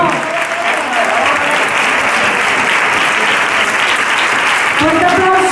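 Audience applause at the close of the first act of a stage show in Seville, a dense, steady wash of clapping with crowd noise sustained throughout, loud and close, with some voices mixed in.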